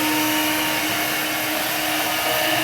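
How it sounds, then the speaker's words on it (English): Cop Rose window cleaning robot working its way across a small window sprayed with glass cleaner, giving off a loud, steady vacuum-like whir of suction fan noise with no voices. "Now the robot is cleaning."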